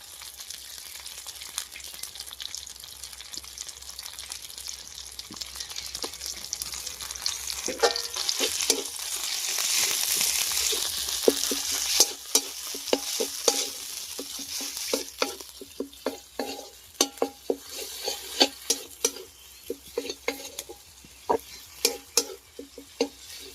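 Spice paste for vegetarian paneer posto frying and being stirred in a pan, with a steady sizzle and a run of sharp spatula scrapes and taps against the pan that grow more frequent toward the end.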